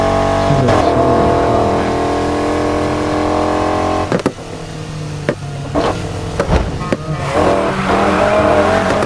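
A BMW M5 drift car in the NFS Heat racing game revs hard with a loud sustained engine roar, then breaks into choppy bursts of revving and skidding with sharp cuts between them.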